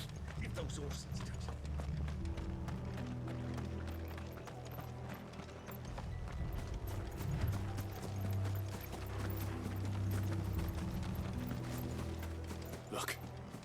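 Horses run in a video game with a dense, rhythmic clatter of hooves and rattling tack, steady throughout at close range. Voices sound faintly beneath it.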